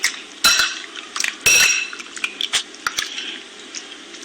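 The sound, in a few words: mixing fish with ginger garlic paste in a bowl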